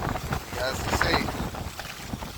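In a yard during hard rain, gusting wind buffets the microphone with low rumbling bursts over a constant hiss of rainfall, loud and close.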